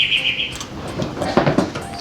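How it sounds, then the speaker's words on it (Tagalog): Birds chirp outdoors near an open-air kitchen, a bright sustained call opening the moment followed by scattered short tweets over a low background of ambient noise, fairly loud and close. "Hindi, may ibon din dito kasi sa lugar natin."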